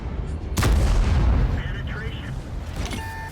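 In a video game, the M4A1 Revalorisé tank fires a high explosive round, a single loud booming blast that rolls off into a rumbling tail, with faint game sounds after.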